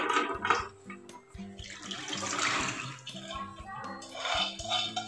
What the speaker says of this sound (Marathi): एक बाउल घेतलंय, वर चाळणी ठेवलंय, डाळीमधलं पाणी काढून घ्यायचं आपल्याला।